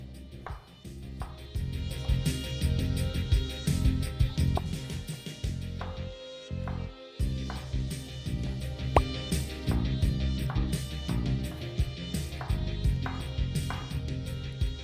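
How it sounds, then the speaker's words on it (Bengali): Knife cutting capsicum into triangular pieces on a board for restaurant-style chilli paneer, a run of quick, crisp chops and taps that repeats steadily close up, with a brief pause partway through. "আর ক্যাপসিকামগুলোকে এইভাবে একটু ট্রায়াঙ্গেল করে কেটে নিন।"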